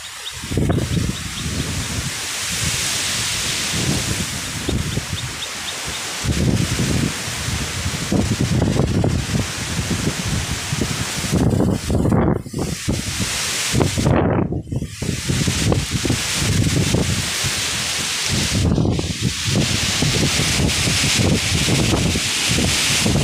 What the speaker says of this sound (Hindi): तूफान का मतलब देख सकते हैं कितना तेज़ी चल रहा है